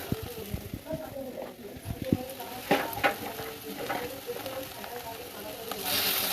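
Cumin powder and turmeric fry in a pan of oil: a soft sizzle runs beneath irregular scraping and tapping as the spices are stirred, close but fairly quiet.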